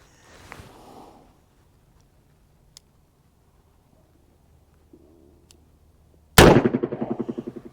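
A .38/44 Heavy Duty revolver fires Remington 130 grain full metal jacket rounds: one sharp, loud report late in the clip with a ringing decay, after mostly quiet seconds with faint clicks.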